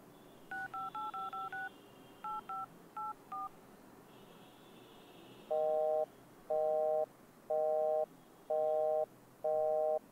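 Telephone keypad tones beep in quick sequences as a number is dialed, followed by five evenly spaced repeating call tones that go unanswered, clear and alone.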